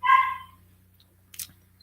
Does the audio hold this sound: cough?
no